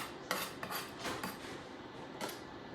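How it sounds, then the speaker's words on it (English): Metal utensil scraping and raking chopped cilantro across a skillet during fish dinner prep, a few close, rasping strokes in quick succession with no talking. "So we're gonna rake this cilantro right on over in here."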